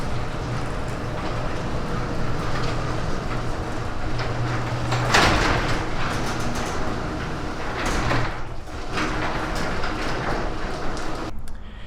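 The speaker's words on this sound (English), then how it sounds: "how the opener will operate with a garage door" A garage door opener drives a garage door, rumbling and rattling steadily for several seconds, with a few louder clunks partway through, then the noise cuts off near the end.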